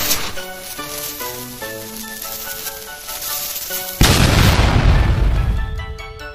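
Dynamite goes off in a Lego stop-motion scene: after a short melodic music passage, a sudden loud boom bursts in and then fades into a crackling, sizzling tail.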